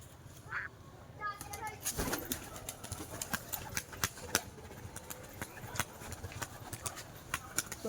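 Fancy-breed pet pigeons kept for sale, heard close up as sharp wing-flap clicks and scuffling with a brief coo-like call, over a busy background of muffled voices.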